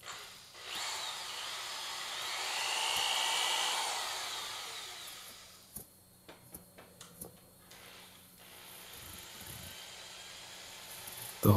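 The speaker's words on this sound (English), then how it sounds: "The holes I'm drilling are 1/8 of an inch wide." A power drill bores 1/8 inch pilot holes into a wood 1x2 stretcher bar frame, one long rising whine followed by short clicks and bursts as the bit is handled.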